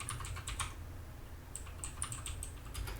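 Keys tapped on a computer keyboard while entering a terminal command, two quick bursts of close, crisp clicks separated by a short pause, with no talk.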